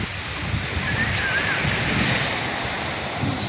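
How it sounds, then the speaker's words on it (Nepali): Wind gusts across the seaside at Pohang, a broad rushing roar buffeting the microphone alongside surf-like noise, steady and fairly loud with no clear talking. "हावा चलेर आवाज आयो"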